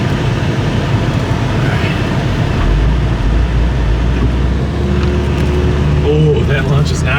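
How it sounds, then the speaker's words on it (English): A car launches from a standing start in a time trial, its engine roaring loud and close as revs climb, with wind noise throughout and a brief tonal whine near the end. "Oh, that launch is not as good."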